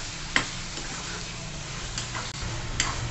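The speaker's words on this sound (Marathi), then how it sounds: "बघा आपण असं छान परतून घेऊ." Finely chopped ingredients sautéing and being stirred in a pan for shev bhaji, a steady low sizzle with a few sharp spatula scrapes and taps against the metal.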